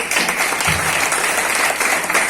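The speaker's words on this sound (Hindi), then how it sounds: "चलिए इनके लिए एक बार ताली होना चाहिए" An audience claps loudly and steadily for farmers at a seminar, a dense, continuous round of applause close by with no talk over it.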